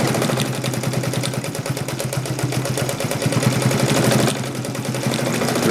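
A Necchi BU Mira sewing machine stitches forward and then in reverse with a short stitch, giving a fast, even mechanical chatter that hums steadily, with a brief shift in tone partway through.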